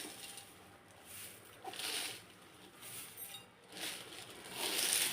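Fried flattened rice (chira) is tipped into a chanachur mix with lemon, coriander leaves and mustard oil. It gives several faint, dry, rustling pours in short bursts, close by.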